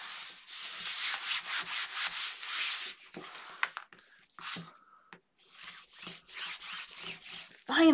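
Paper over score tape on a pirate-themed mini album being burnished by hand, close rhythmic rubbing strokes in bursts with brief pauses between them.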